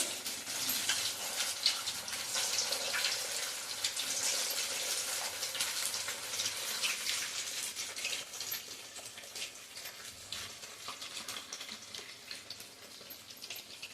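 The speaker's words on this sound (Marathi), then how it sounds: "आता आपण इडली तळायला घालूया" Idli pieces fry in hot oil for a crispy snack, a steady dense sizzle that stays fairly even throughout, slightly easing toward the end, with no voices.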